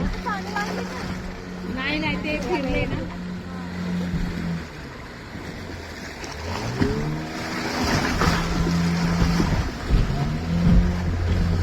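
A motorboat engine drones steadily on the water at Tapola with wind and splashing, while several people talk and call out over it.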